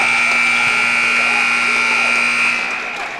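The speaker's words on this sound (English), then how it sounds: "There's the buzzer. The third quarter comes to a close." A steady, piercing buzzer sounds for about two and a half seconds to end the third quarter of a high school boys varsity basketball game between Oratory Prep and Rahway, then cuts off as the gym's crowd noise fades.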